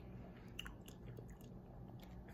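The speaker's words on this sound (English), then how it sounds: "A lot more harder to chew." Sweet Tarts chewy rainbow candy being chewed up close, a steady run of soft, sticky mastication with faint crunchy bites, continuous and alone without talk.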